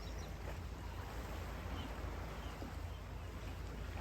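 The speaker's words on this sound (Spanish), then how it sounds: "Las olas del mar," Sea waves wash onto a beach at dawn, a soft, continuous surf hiss with low rumbling underneath, heard at a distance and steady throughout.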